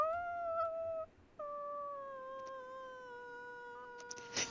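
A person imitates a wolf-like howl with a voice, a sustained wavering tone that breaks off briefly and resumes, then ends abruptly; no other talk.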